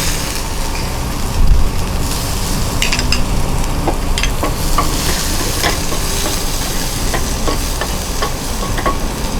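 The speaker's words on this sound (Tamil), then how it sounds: "அது நல்லா பொன்னிறமாக வறுக்கிறோம்." Chopped garlic sizzles steadily in hot oil as it fries golden, with occasional stirring scrapes and small pops, close and continuous with no talking.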